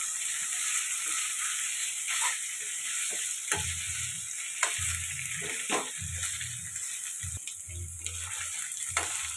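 Chicken pieces frying in oil with ginger garlic paste, crackling close up while a spoon stirs in irregular bursts over a constant high hiss; no voices.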